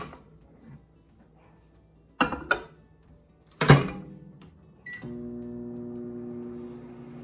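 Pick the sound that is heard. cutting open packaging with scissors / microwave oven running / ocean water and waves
microwave oven running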